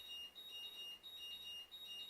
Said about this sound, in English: As a LiPo alarm goes off in the background